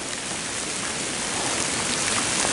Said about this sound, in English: get some heavy rain out today.